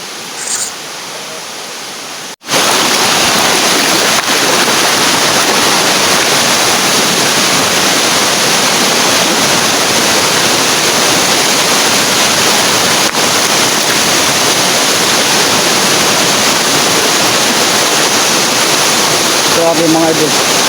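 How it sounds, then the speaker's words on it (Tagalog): A waterfall about 60 meters high roars as a loud, continuous broadband rush of falling water, close and steady, preceded by a brief quieter moment at the start. "Napakalayo sa napakagandang falls."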